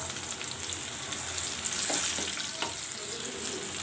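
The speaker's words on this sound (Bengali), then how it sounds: "পেঁয়াজটা অর্ধেক ভাজা হলে এই পর্যায়ে আমি দিয়ে দেব কাঁচামরিচ কুচি" Onion and chopped green chili frying in a pan for an okra dish, a fairly quiet, even sizzle with a few stirring clatters, close up and without talk.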